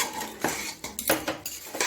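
A spoon stirs rice and salt in a cooking pot, giving quick uneven scrapes and metallic clinks in a fast irregular rhythm, close and moderately loud.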